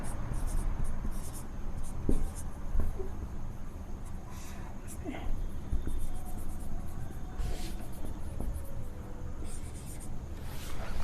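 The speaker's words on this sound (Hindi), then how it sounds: "इसको जरा इधर लिख देंगे हम" Chalk or marker writing on a board during a matrix maths lesson, faint scratchy strokes in short bursts over a quiet room background.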